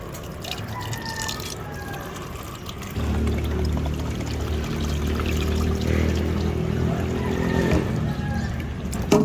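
Bangus (milkfish) being rinsed under a running tap while preparing fish soup: a steady stream of water pours and splashes over the fish, starting a few seconds in and continuing close and moderately loud, with a few light drips before it.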